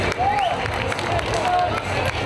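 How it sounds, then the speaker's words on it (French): A crowd claps and cheers for the 2018 Rosière at her Pentecost procession and crowning in Moissac. The applause is loud and continuous, with voices and shouts mixed into it. "On applaudit très très fort la Rosière 2018"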